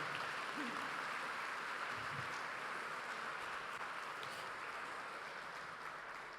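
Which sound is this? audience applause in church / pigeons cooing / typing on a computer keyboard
audience applause in church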